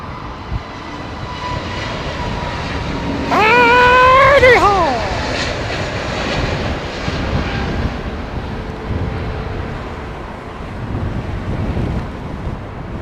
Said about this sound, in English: is that a United 767-400?